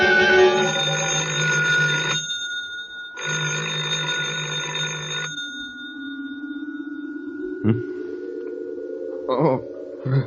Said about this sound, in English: I thought I heard the phone